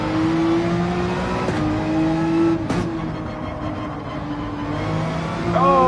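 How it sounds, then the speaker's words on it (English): Ferrari 458 engine revving hard through the gears at Spa in Gran Turismo 7, a loud close whine rising in pitch, dipping at a shift and climbing again. "that Ferrari 458, sorry, has fantastic acceleration"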